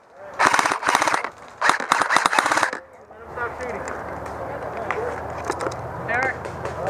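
Airsoft guns fire during a team deathmatch in two rapid, loud bursts of clattering shots close by, followed by fainter scattered pops under players' voices.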